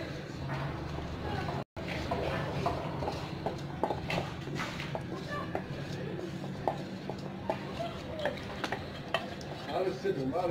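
Melted chocolate and butter stirred into cupcake or madeleine batter in a bowl, soft repeated scraping and sloshing strokes with light clinks of the utensil, close up, with someone talking intermittently.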